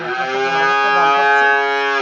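A single long, loud heifer moo at a dairy farm, close and sustained for about two seconds, with no other sounds around it.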